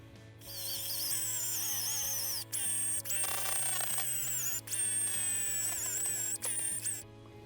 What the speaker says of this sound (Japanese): 先に削りをやりたいと思います